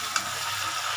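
Chicken kosha frying in a pan and being stirred, a continuous close sizzle with a light scrape of the spoon, steady and unbroken throughout.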